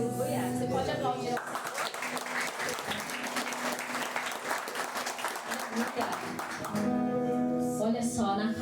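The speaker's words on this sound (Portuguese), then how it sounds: "Você pode aplaudir." Church congregation at a Sunday celebration service clapping together in a dense, sustained burst, framed by a voice speaking briefly at the start and again near the end.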